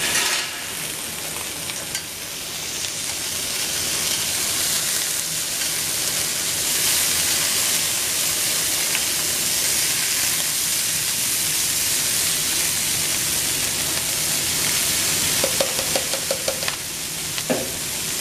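Lobster tail meat sizzles steadily in a hot pan as it sears for stock, a dense continuous frying hiss with a few brief clinks near the end and no talking.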